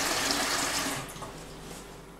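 Warm water pours into a bowl of flour, yeast, sugar and salt for bread dough, a close, steady splashing rush that tapers off toward the end.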